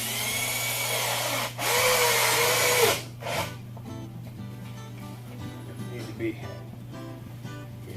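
Power drill driving screws into pallet wood while building a vegetable stand, a loud, steady whir for about three seconds, then a drop to quieter tool handling and knocks.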